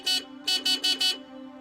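A vehicle horn honks near a tractor: one short blast, then four quick toots in a row. The honks are loud and close, and no voice is heard.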